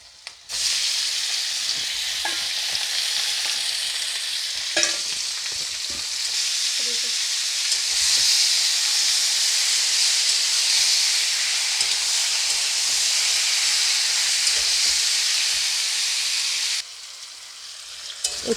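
Chicken pieces for a curry sizzle steadily in a hot pan with bay leaves, a dense hissing fry that runs nearly unbroken, with occasional light clicks of stirring, fading briefly near the end.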